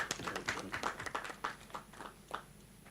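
Scattered applause from a graduation ceremony audience at Kyambogo University, fairly faint and distant, with separate claps in an uneven rhythm that taper off.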